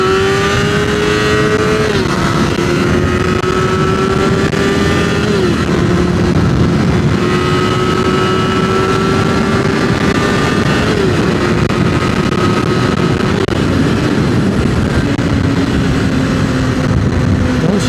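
A Suzuki GSXR 400 motorcycle engine revs loudly and close, its pitch climbing and dropping in repeated pulls through gear changes, a continuous buzzing roar with no talk.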